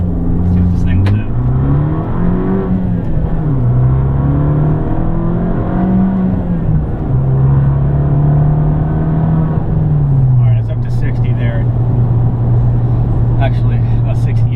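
A 2013 Fiat 500 Abarth in sport mode pulls hard, engine note climbing through the gears with a loud steady drone inside the cabin and voices talking over it.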